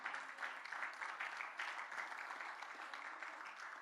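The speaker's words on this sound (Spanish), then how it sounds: "Denle un fuerte aplauso al Señor Jesucristo" Congregation in a church service applauds the Lord Jesus Christ, a steady, fairly quiet wash of clapping lasting the whole moment with no voices over it.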